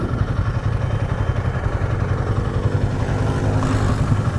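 A motorcycle revs and putters past at close range with a steady mid-pitched engine roar and some rattling, loud and continuous over street noise, with no one speaking.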